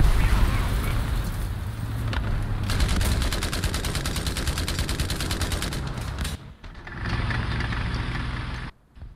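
Rapid, sustained machine-gun fire from aircraft guns in War Thunder rattles in dense bursts over a steady engine drone, loud and close, cutting out briefly near the end before resuming.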